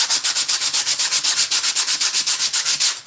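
Rapid, rhythmic rasping of sandpaper wrapped around a sponge, scrubbed back and forth over cast iron, about a dozen quick even strokes, close and loud.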